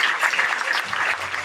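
An audience claps steadily for a volunteer being invited forward at a plenary session, a dense, even patter of many hands throughout, with a faint voice underneath near the end.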